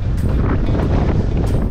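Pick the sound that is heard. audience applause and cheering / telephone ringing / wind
wind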